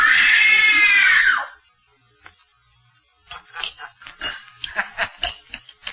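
A woman's loud, high, terrified scream in a 1948 King Kong radio drama lasts about a second and a half, then fades into a pause followed by scattered voices.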